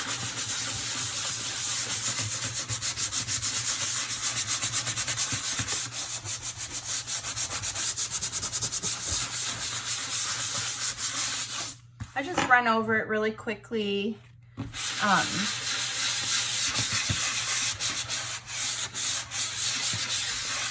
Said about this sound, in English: then I always sand it again